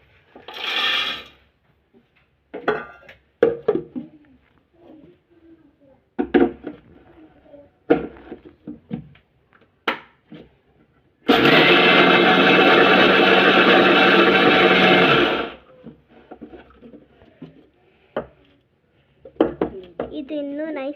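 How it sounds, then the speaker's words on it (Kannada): A mixer grinder grinds roasted, peeled peanuts with jaggery in a loud, steady whirring burst of about four seconds, set between stretches of kitchen clatter and talk. "ಇದನ್ನ ಮಿಕ್ಸಿಗೆ ಹಾಕ್ತೇವೆ."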